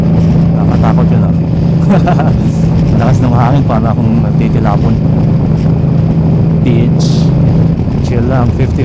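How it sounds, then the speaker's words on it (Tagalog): Steady, loud wind roar buffeting a rider on an Indian Scout bobber motorcycle at highway speed, with a constant engine drone beneath and someone talking over the rush of air. "Malakas ng hangin, para akong nagtitilapon."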